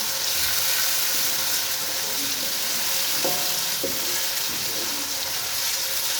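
Loud, steady sizzling of garlic ginger paste frying in a pan, with a few light scrapes and clinks of a spoon stirring.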